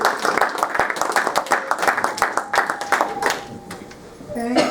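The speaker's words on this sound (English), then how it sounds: "please give that video a big round of applause." An audience at a health education event in an Indian village-development setting claps steadily in a dense, moderately loud round of applause that thins toward the end, with a brief voice near the close.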